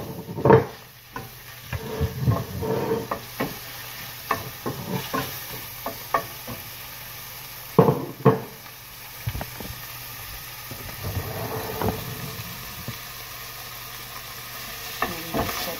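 Chicken fries in a pan for instant pancit canton, giving a steady sizzle broken by scraping and clattering stirs from a spatula, close up and with no talk.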